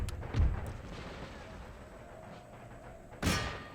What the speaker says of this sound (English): I want all cannons focusing in on this hideous monstrosity of heathen worship.